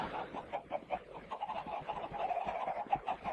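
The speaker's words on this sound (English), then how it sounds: "Right, let's have a look at these chickens." Chickens in a crowded pen in a video game cluck in a busy, repeated pattern of short, soft calls, several birds overlapping at close range with no talk.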